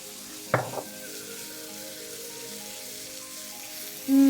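Vegetables, red pepper and scallions, stir-fry in oil in an electric wok with a soft, steady sizzle. One sharp clatter sounds early on, and a brief low tone comes near the end.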